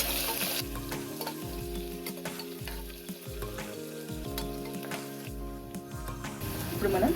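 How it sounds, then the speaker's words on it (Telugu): Onions fry in an oiled pan for a sprouts pulao, giving a steady close sizzle with stirring scrapes that continues throughout over a tonal background. "ఇవి కొంచెం వేగనిద్దాం."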